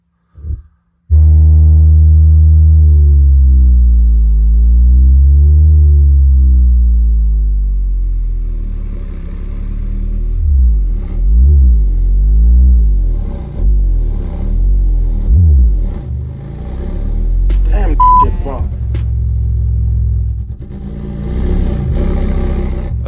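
A 6.5-inch HiQ subwoofer driven by a $50 four-channel amplifier plays loud, deep bass tones that sweep and pulse for over twenty seconds after a brief thump, with no talking.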